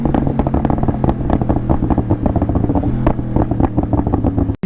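A Yamaha R1 motorcycle's exhaust crackles with rapid, loud pops and bangs over a rumbling engine note, firing in a dense, irregular burst up close.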